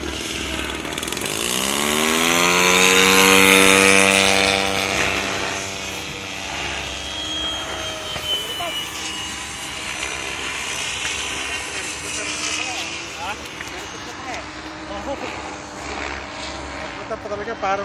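An RC F18 model jet on a 3S 2200mAh 40C battery flies over an airfield. Its whining motor swells loud as it passes close, then settles to a steadier, more distant buzz while people talk.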